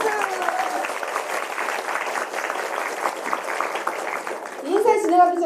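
An audience of mothers at a meeting with politician Moon Jae-in claps in a sustained burst of applause, with a few voices and a rising note of cheering near the end.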